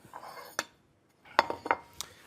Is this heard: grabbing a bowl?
yes